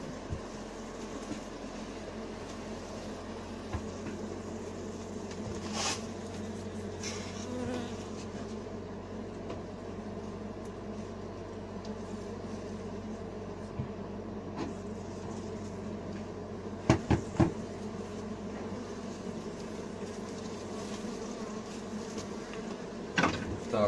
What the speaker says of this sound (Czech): Smeteme včeličky.